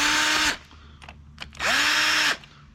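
Power drill driving oil pump bolts into a Harley-Davidson Breakout 131ci engine, two short close bursts of whirring with rising pitch as each bolt spins in, separated by small metallic clicks.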